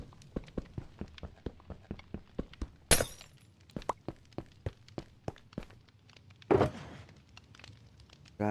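Blocks being broken in Minecraft: a steady run of short, crisp knocking hits, with two louder shattering crashes standing out among them, close and with no talk.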